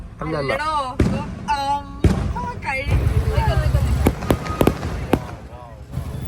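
Firecrackers at a temple festival near Chengannur give several sharp, loud bangs in quick succession over a busy outdoor crowd, following a stretch of people talking.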